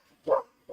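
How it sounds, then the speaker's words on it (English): One short, close dog bark at a home during a football game broadcast, followed by the start of another. "What are you barking at?"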